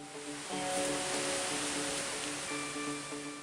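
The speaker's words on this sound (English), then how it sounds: "we come face to face with a spectacular waterfall" A spectacular waterfall in a Honduran cloud forest roars with a constant dense rush of falling water, steady and loud, while soft tonal music plays over it.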